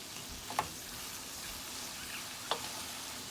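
Garlic and vegetables for ratatouille sizzle faintly in a pan, a steady soft frying hiss broken by two brief clanks as the mixture is stirred.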